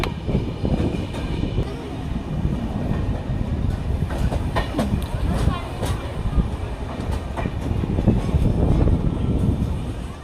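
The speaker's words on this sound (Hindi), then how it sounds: "हमारी ट्रेन अराइवल करने जा रही है टूंडला रेलवे स्टेशन पर" North East Express train running on track near Tundla, a steady loud rumble of wheels and carriage with intermittent metallic clatter throughout, heard from on board.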